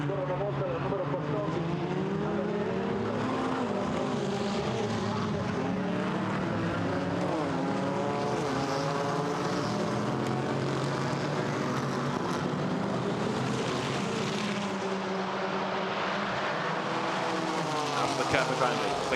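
GT4 race cars, including a BMW M4, roar past at Monza, their engines whining and shifting through overlapping pitches in a continuous loud drone while a commentator talks throughout.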